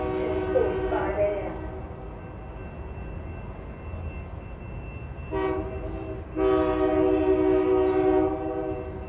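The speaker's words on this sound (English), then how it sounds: "There's another train coming." A train rumbles by with a steady low roar, and a horn sounds in sustained blasts partway through.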